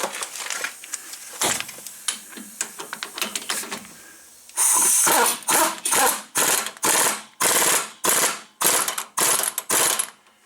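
Ratchet wrench spinning a nut onto the front shock of a Dodge Dakota 4x4, first in quick light clicking bursts, then in loud, close, evenly spaced rapid ratcheting strokes with no talk.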